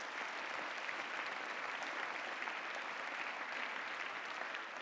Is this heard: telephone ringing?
no